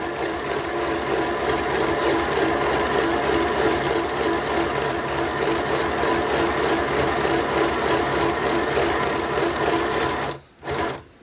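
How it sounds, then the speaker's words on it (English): A sewing machine set to zigzag stitches around a handmade junk journal page, a steady, close mechanical whirring and clatter that runs evenly for about ten seconds before stopping briefly and restarting. "So all I'm going to do is just put the needle down, and then I've got it onto zigzag"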